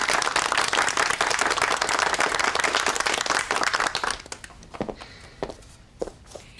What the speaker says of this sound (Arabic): اوه صفقوا.